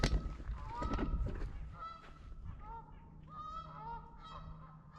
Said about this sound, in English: The Canada goose is honking down there by the water.